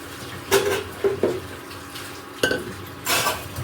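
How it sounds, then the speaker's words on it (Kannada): Boiled kabuli chickpeas tipped into an oiled pan for a wedding-style chickpea curry, with a few sharp clatters and scrapes of a spoon against the pan. Quieter kitchen sounds continue between them. "ನೆಕ್ಸ್ಟು ಕಾಬೂಲ್ ಕಡಲೆ ಬೇಯಿಸ್ಕೊಂಡಿದ್ದೀನಿ, ಇವಾಗ ಹಾಕ್ತೀನಿ"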